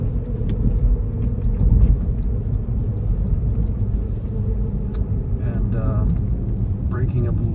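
A car coasts in neutral toward a red light, heard from inside as a steady, loud low rumble of road and engine noise that holds evenly throughout with no revving.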